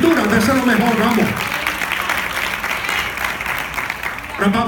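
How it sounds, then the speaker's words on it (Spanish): Applause from a church congregation fills most of the stretch, a dense steady wash of clapping that rises in the middle, with a voice speaking over it at the start and again at the end. "ese aplauso es para mi gracia, pero si es para el Dios que inspiró esta escritura, déselo mejor"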